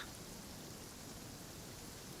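Steady rain falls in the Genshin Impact video game, a soft, even wash of noise that continues without a break, quiet and spread out, with no voices or other sounds over it.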